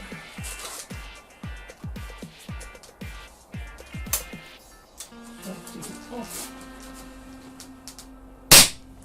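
Retay rifle test firing outdoors, a run of roughly a dozen sharp shots in a regular rhythm, then a quieter stretch with a hum and one loud close blast near the end.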